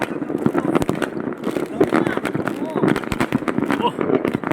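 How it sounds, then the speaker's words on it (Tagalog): Dense New Year's firecrackers and fireworks in Greenland crackle and pop in rapid, irregular bursts, loud and close, with people talking underneath. "talagang galanti sila sa Paputok"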